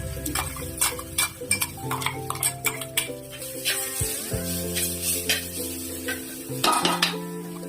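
Yam stem thoran with mustard seeds and curry leaves frying on a low flame while being stirred, a soft sizzle under repeated sharp scrapes and taps of a utensil against the pan.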